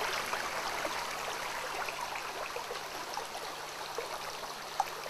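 Water flowing steadily along an acequia irrigation ditch, a continuous trickling babble heard close and alone, with no voices.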